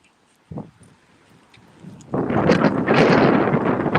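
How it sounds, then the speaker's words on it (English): Quiet at first, then heavy wind buffets the microphone in a sustained, gusty rumble. "you can tell it's windy"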